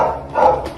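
A family's dogs give a short bark or yip, a single close, loud vocal burst lasting under a second, alone without talk.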